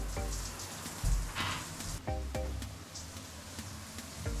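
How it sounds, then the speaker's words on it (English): A rain shower head runs in a hotel bathroom, a steady broadband hiss of falling water with a few brief knocks and clatters over it, fairly quiet and close, with no talking. "I believe there's even a rain shower."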